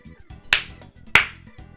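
Two sharp hand claps ring out about half a second apart, crisp and close, over faint background game music.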